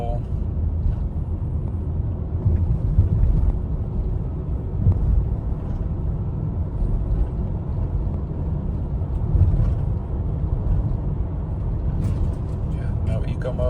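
A 2011-2017 Honda Odyssey minivan driving at medium throttle, heard from inside the cabin as a steady low engine and road drone with mild swells, while people talk over it throughout.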